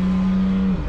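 A car with an exhaust leak drives along with a loud, steady droning exhaust note and a strong low buzz that dips near the end, heard from close inside with no talking.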